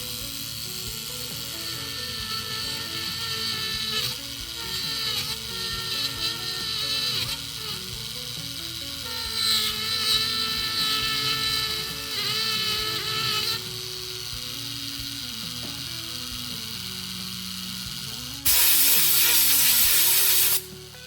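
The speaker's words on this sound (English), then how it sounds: "So this is a diamond stick. It will clean the commutator." Andis AG animal clipper motor runs with a steady buzzing hum while a diamond stick is pressed against its commutator, giving rising and falling grinding, rubbing tones and a harsh hissing burst near the end.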